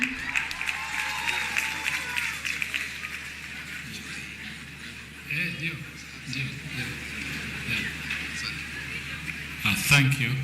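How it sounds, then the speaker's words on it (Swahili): Audience applause at Kenyatta University's 52nd graduation ceremony: a steady, moderately loud patter of many hands clapping for about ten seconds, with crowd murmur and a speaking voice over it, and a brief louder burst near the end. "Tupigie makofi zawadi."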